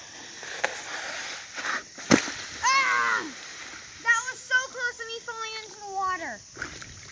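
A sled slides down a muddy bank into a river, with a scraping rush and a sharp splash near the start, as people talk and call out over the sound of the water.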